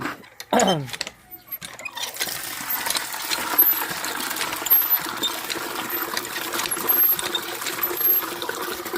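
Water pours and splashes into a container of cattle feed, with a brief clattering pour at the start followed by a steady trickling, sloshing sound.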